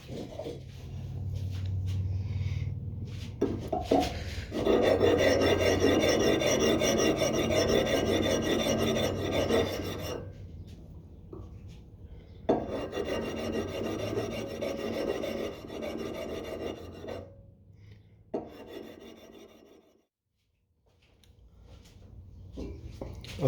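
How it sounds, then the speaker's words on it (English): A ring being sanded by hand, giving a steady close rasping scrape in long continuous strokes that stop briefly between passes. "So what I need to do is sand this down a little bit by hand first."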